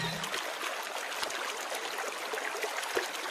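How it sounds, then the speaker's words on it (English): A game river flows with a steady, hissing rush of water, continuous and fairly close, with no voices over it. "Wait, is that a river I'm hearing now?"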